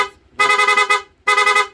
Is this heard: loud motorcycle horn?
yes